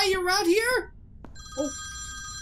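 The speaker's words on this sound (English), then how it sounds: "Oh, turn this phone off! Turn it off." A telephone rings in the horror video game Nighttime Visitor, a steady electronic trill that starts right after a short, high-pitched spoken line and carries on alone.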